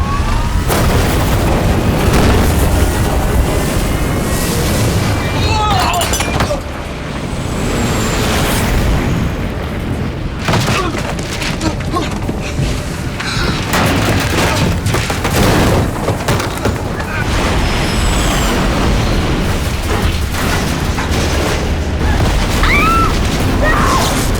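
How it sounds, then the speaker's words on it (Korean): An airplane's right wing engine exploding: a continuous roaring blast with deep rumbling booms and crackling bursts, loud and dense throughout, with no clear pauses. "오른쪽 날개 엔진이 폭발하기 시작하죠."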